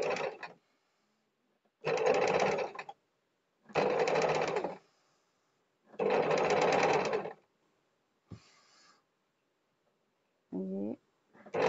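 A sewing machine stitches piping onto a boat neck blouse in several close, loud whirring bursts of about a second each, separated by quiet pauses, with a short vibrating burst near the end.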